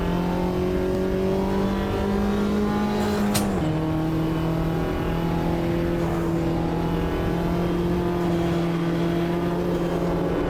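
Onboard Mini race car engine in Automobilista 2 at Ibarra at sunset, a steady loud drone holding pitch, dipping briefly after a sharp click around the middle, then droning on continuously with no talk.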